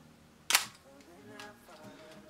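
A Pentax ME Super film camera fires with one sharp, close shutter snap. Softer mechanical handling clicks from winding follow.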